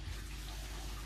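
Tap water runs in a steady, close rush while hair is being wetted during a hair wash, a brief continuous splash with no voices.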